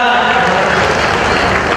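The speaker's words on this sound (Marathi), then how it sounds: "जरा टाळ्या वाजवा त्यांच्यासाठी" Dense, steady applause from a large audience at a public gathering honouring Krantiveer Umaji Naik in Bhivadi, filling the whole stretch at a constant level with no pauses.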